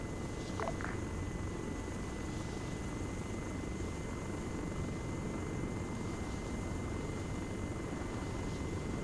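Steady, continuous rotor-and-engine drone of an aircraft circling in a combat flight video game, loud and unbroken throughout with no voices.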